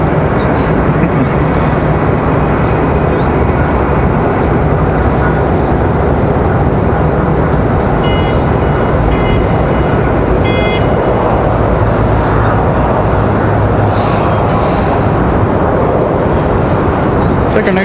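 A heavy jet airliner passing at Raleigh-Durham International Airport, a loud, steady broadband roar holding throughout, heard outdoors and close.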